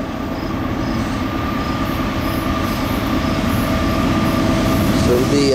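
A Norfolk Southern intermodal freight train passes at track speed near Elyria on the Chicago line, a loud continuous rumble of wheels on rail with steady roar, faint squeal and clatter throughout.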